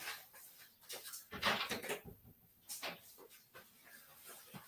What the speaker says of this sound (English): I got my dog in here. I gotta let them out real quick.